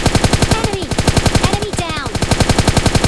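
Rapid automatic gunfire from the mobile shooter game PUBG Mobile Lite rattles in a steady, fast rhythm of loud shots. It runs without pause, with a voice talking briefly over it.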